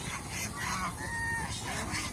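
A flock of domestic geese gathers together and honks, overlapping nasal calls sounding continuously and close by, with no talk.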